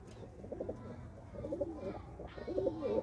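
In a pigeon loft, several throaty coos bubble up in quick clusters, fairly close, over a steady low background rumble with a brief rustle between calls.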